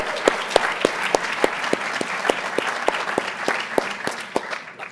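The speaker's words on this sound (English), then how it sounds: "a round of applause for Eric as well." An audience at a university politics event applauds for Chicago Tribune columnist Eric Zorn, a full room of steady clapping with a regular pulse of louder individual claps that fades slightly at the end.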